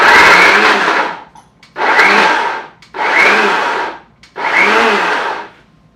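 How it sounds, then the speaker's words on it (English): A food processor pulsing Butterfingers candy bars and blueberries makes four loud, close bursts of whirring motor and chopping, each about a second long with short silences between. "And so we're supposed to pulse to break them up and get some juices flowing."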